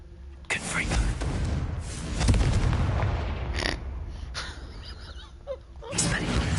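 Confringo blasting curse in Hogwarts Legacy detonating with a heavy, booming blast and rumbling crackle that lingers several seconds before a second burst near the end.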